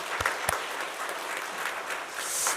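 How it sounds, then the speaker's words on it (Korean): Church congregation applauding together during a church anniversary service, a steady wash of clapping hands that holds for a couple of seconds and swells slightly at the end, with no talk over it. "우리 하나님께 감사하고 또한 그동안 수고해 오셨던 믿음의 선배들께 감사하다고 한번 박수로 우리 인사했으면 좋겠습니다"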